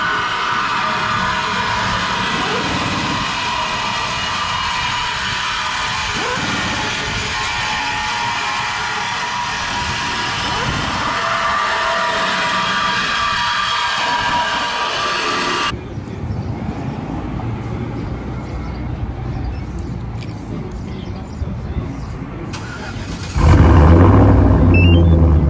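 A 2013 Silverado with a stage 2 BTR cam and cat delete runs with a loud, steady rumble and a broad exhaust roar for a long stretch, the tone shifting partway through and a deeper burst near the end.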